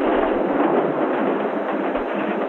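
A Moscow-bound passenger train rolls past on the railway line, a steady loud roar of wheels and rumble filling the whole stretch with no voices.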